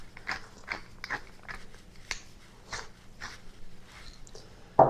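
Pepper being cracked with a hand pepper grinder while canning meals, a rapid series of faint, gritty crunching grinds at an even rhythm.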